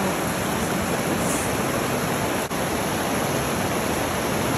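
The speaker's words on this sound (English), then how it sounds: "Just listen to the beautiful drips of water flowing gently in between the rocks" Water rushes steadily over rocks at a Costa Rica waterfall, a constant, full, hissing wash close by with no breaks and no talk.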